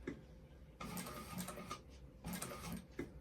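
Close, quiet sewing machine stitching a bag in short bursts of rapid mechanical chatter, two runs separated by brief pauses, no talking.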